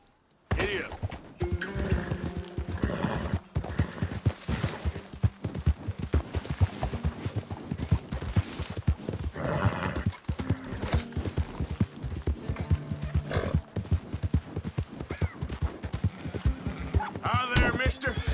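A horse gallops in the Western video game Red Dead Redemption II, with loud rapid hoofbeats pounding throughout, occasional whinnies and someone talking over the ride.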